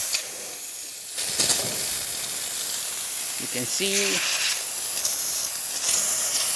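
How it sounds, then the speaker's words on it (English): Steam hisses steadily and loudly from the boiler of a Rancilio Silvia espresso machine, a continuous broadband rush with brief clicks and a short tonal blip, while a voice speaks briefly over it. "all that steam coming out from this beautiful Silvia"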